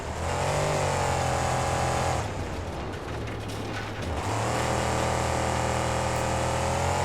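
Monster truck with a 540 Hemi engine in the driving game BeamNG, a steady loud mechanical engine drone that briefly dips into a rougher, noisier stretch before settling back to a sustained hum.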